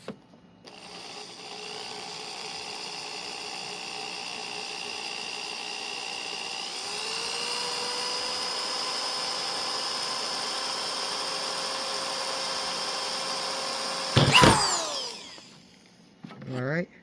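An electric drill bores through the plastic blades of a Lasko American Classic fan: a steady whine that rises in pitch partway through, then a brief harsh burst near the end as the bit tears through.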